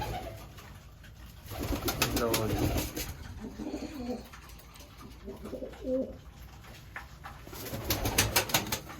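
Racing pigeons sunning on a rooftop coo in deep, repeated rolling calls close by, with faint voices and background noise.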